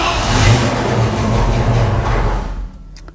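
A car engine revs up after a new six-gauge instrument cluster is installed, rising and holding loud and close before cutting off abruptly into near silence at the end.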